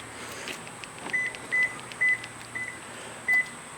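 A 2011 Toyota Camry LE key fob lock triggers a run of short electronic beeps, four in fairly quick succession and then one more after a pause, close and clear over faint background hum.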